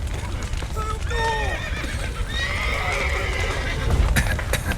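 Horses neigh and whinny repeatedly in shrill, falling cries in The Witcher 3, with hooves clattering and some muffled noise underneath.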